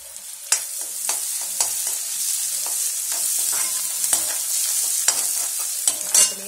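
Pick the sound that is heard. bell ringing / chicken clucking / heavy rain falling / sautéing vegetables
sautéing vegetables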